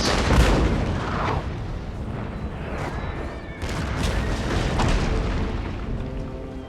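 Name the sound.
artillery fire in the video game Empire Total War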